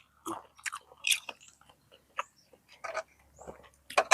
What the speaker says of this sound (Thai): พริกทอดอร่อยจ้ะ